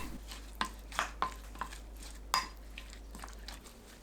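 A spoon clinks and scrapes against a bowl several times at an uneven pace, close by, stirring a sauce of garlic, soy sauce, anchovy sauce, syrup, water, sesame oil and sesame seeds. No voices.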